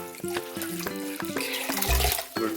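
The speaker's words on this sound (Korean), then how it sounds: "시금치를 차게 빨아가지고요," Spinach being washed in cold water in a sink, with splashing, swishing and running-water sounds in short bursts and a louder gush near the end, fairly quiet and close.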